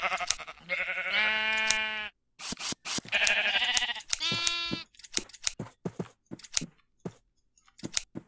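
Custom shears sound effect used on sheep in Minecraft: bleating sheep calls alternate with sharp, rapid snipping clicks, loud and close, repeating in short bursts separated by silences.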